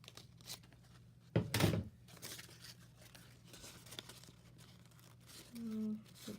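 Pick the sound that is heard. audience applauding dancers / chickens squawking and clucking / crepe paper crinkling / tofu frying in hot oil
crepe paper crinkling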